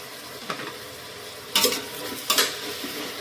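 Tomatoes with salt fry in a pan under a soft, continuous sizzle, broken by three bursts of scraping as a spoon stirs them, with no talking.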